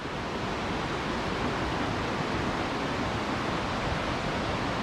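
Little River in the Great Smoky Mountains flowing along a hiking trail, a steady broadband rush of water that holds evenly throughout with no break or voices.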